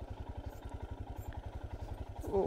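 Motorcycle on a slippery slope near Gambheeram Reservoir, a close, low, rapid engine putter pulsing steadily throughout, with a brief faint voice near the end.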